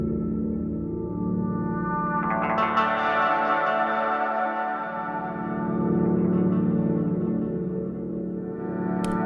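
An electric guitar runs through an effects pedal on a blooper octave setting, giving a dense, continuous wash of looped, shimmering, bell-like tones with echo, steady and close with no talking.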